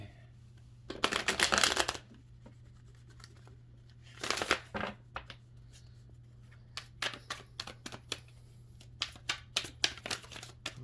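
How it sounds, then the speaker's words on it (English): A deck of tarot cards shuffled by hand up close, with two dense riffling bursts early on followed by scattered light card snaps and taps over a faint steady hum. "let's go ahead and pull some tarot to clarify"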